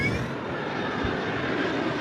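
Airliner on flight MH370 accelerating down the runway for takeoff at night: a loud, continuous jet-engine roar that holds steady throughout, heard from inside or close by, with no talking.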